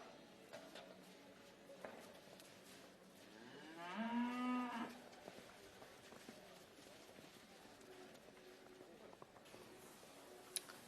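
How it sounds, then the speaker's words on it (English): Cattle at a campdraft arena during a gold buckle championship round, with one loud, drawn-out moo in the middle over steady arena ambience and faint background noise. "So all of the cattle that you see throughout our drafting for the past few days and towards the weekend"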